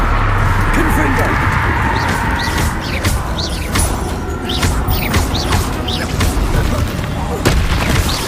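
Fiery Confringo spell blasts from Hogwarts Legacy boom repeatedly amid a dense, continuous battle din, with sharp transient cracks scattered throughout and a voice calling out spells over the clamor.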